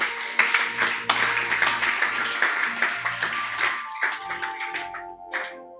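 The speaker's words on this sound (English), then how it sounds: "Did you clap hand for it, Joseph?" Congregation clapping in a church service, with rhythmic hand claps sounding close and fairly loud. Brief pauses break the clapping before it tails off near the end.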